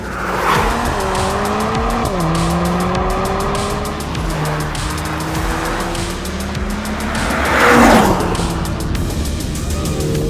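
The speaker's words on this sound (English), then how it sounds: "This is the Emira and it is one hell of a car to drive." Lotus Emira sports car driven hard, its engine loud and close, revving up and down through gears with tyre squeal, continuous for the whole stretch and swelling near the end.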